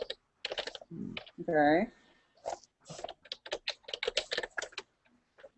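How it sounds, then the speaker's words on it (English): A loud computer keyboard clatters in quick bursts of keystrokes, mixed with a person's voice speaking briefly nearby. "that keyboard's really loud, thing"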